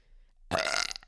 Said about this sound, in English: That was a mouth fart.